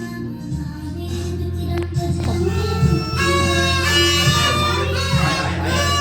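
A played recording of the Hanuman Chalisa devotional hymn being sung, with a steady melodic voice and sustained tonal accompaniment carrying continuously at moderate volume.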